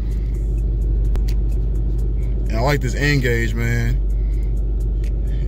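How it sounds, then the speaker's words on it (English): A car running a Lund tune drives along with a steady, deep engine rumble and road drone throughout, while someone talks briefly over it near the middle. "I'm going to do a little drive so y'all can hear the shift points."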